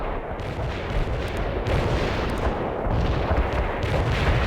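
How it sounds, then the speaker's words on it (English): Artillery strike in the World in Conflict video game, a dense, loud barrage of booming explosions and heavy fire rumbling continuously throughout. "Artillery strike on the way."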